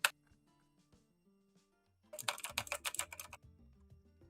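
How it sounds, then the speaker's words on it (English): Rapid burst of keystrokes on a computer keyboard, close and fairly loud, clattering for about two seconds after a quiet stretch with faint background hum. "Suris, can you type on your keyboard just to make some typing noises?"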